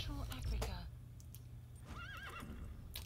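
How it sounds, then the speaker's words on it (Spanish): A horse in the video game Metal Gear Solid V gives a wavering whinny, followed by faint hoof clops, with a player talking before it. "el compañero está el caballito"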